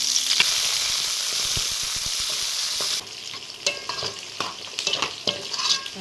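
Mustard seeds sizzle loudly in hot oil for sambar, a dense hiss for a few seconds that eases into crackling pops and stirring scrapes as dried chilies and curry leaves go in.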